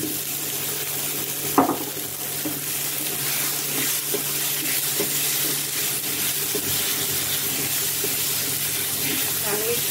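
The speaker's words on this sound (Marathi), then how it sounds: "हे कट करून ठेवलेला दुधी टाकून घेऊया आपण" Chopped bottle gourd hits a hot pan seasoned with asafoetida for dudhi dal, giving a sharp clatter at the start and then a steady, close sizzling hiss that continues evenly with faint stirring.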